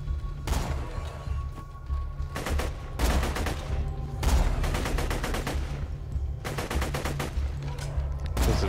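Video game gunfire from Borderlands 2: repeated bursts of rapid automatic shots in rattling volleys separated by short gaps, loud and close, with no talking.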